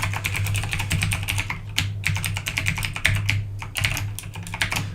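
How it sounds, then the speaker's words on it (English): Steady, rapid clicking from a computer keyboard during continuous typing, close and prominent, with brief pauses between bursts and a low electrical hum underneath. "can you hear my keyboard clicking?"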